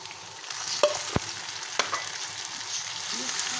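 Green chillies and tomatoes frying with golden onions in a pan, a close, continuous sizzle broken by several sharp stirring clicks and scrapes of the spoon, with no talking.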